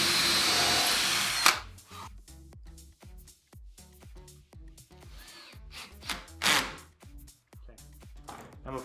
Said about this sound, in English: And then again, pre-drill.